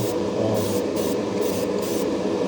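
Steady airbrush hiss spraying primer on model kit parts runs unbroken throughout, a constant close spray of air with faint pulsing, no voices.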